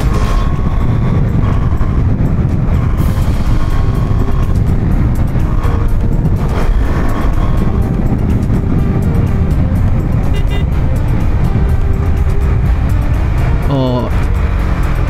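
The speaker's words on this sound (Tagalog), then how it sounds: "Rev match downshift." Car engine during a rev-match downshift, a loud continuous engine drone with road noise and a brief rising rev blip near the end, with no clear speech.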